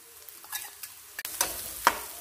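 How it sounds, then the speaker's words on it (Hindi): Onion, garlic, ginger and green chili paste frying with cumin in a pan, a soft steady sizzle broken by a few scraping stirs and sharper crackles near the end, close and without any talk. "प्याज, अदरक ते लसन साडा भुज के तैयार है"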